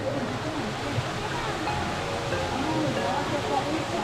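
A jet of cold water gushes at the San Vicente hot springs in Santa Rosa de Cabal, a loud steady rushing splash that fills the scene, with voices faintly beneath it.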